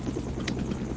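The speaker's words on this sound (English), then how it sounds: "I can just lower the helicopter" A Roblox helicopter drones close by, its rotor thrumming in a steady low pulse that stays even throughout.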